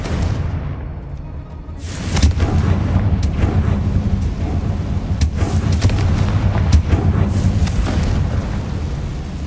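Bombardo and Confringo explosion spells go off in the Hogwarts Legacy video game as a series of loud booming blasts and crackling bursts over a rumbling background, repeating irregularly across several seconds.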